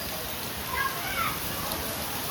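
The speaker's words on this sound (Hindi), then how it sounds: "बारिश तेज है।" Steady, heavy rain hissing continuously, a dense wash of falling water with no pauses.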